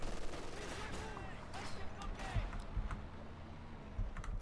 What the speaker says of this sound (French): Artillerie allemande